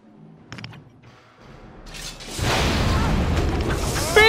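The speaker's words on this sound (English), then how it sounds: "Bombs! Bombs!" Bombs bursting in the video game Dragon Age, beginning with a few sharp clanks and then building into a dense, rumbling explosive roar that stays loud to the end.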